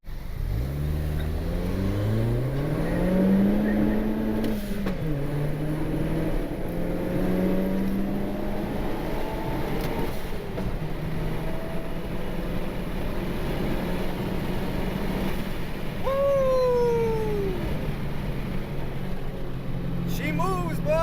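A turbocharged Honda Civic pulls at wide open throttle on a cool day, its engine note climbing steadily in pitch, then dropping at a shift and rising again, loud and continuous throughout.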